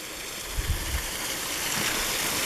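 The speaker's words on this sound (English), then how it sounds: "this here is probably a tributary of the main waterfall that just came over here and slowly trickles down" Continuous rushing and gurgling of a small stream, a waterfall tributary in Toccoa, Georgia, close by and steady, with a few low splashes early on.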